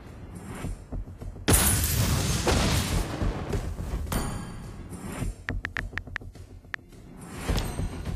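Booming explosions from the Mobile Legends mobile game fill the mix, one heavy broadband blast bursting in and rumbling for several seconds, followed by sharp crackling hits and another surge near the end, loud and close.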